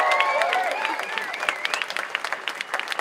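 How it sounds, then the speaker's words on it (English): Outdoor crowd applauding at a climate strike rally in Seattle, with cheering and whooping at first, then thinning into scattered individual claps that fade out. "Give yourselves a round of applause for being out here for the climate."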